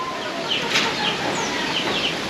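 Native chickens cluck softly in short scattered calls over steady outdoor background noise, fairly close by.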